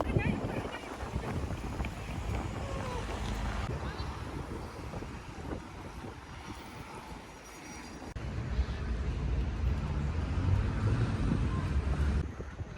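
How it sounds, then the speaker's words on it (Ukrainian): Strong gusty wind buffets the microphone in a low, rumbling roar that swells and fades, with voices faintly underneath. "Тут такий дуже морозяний, морозений вітер."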